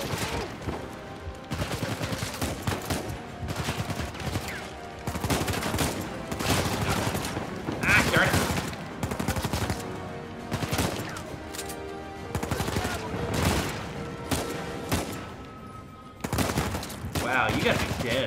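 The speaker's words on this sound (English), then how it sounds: "Oh, I'm getting shot from both sides." Dense, continuous video-game gunfire in Uncharted 4, with rapid automatic bursts and overlapping shots on both sides, loud and unbroken for the whole stretch while a player talks over it.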